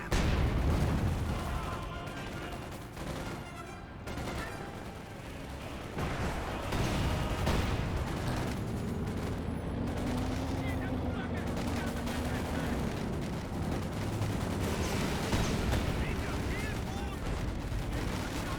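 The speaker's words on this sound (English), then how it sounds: "That's a Gammon Bomb, a full Gammon Bomb." Gammon bomb blast and gunfire in the Company of Heroes 2 video game, a dense rolling mix of explosions and shots with a low droning hum, running continuously under a commentator's voice.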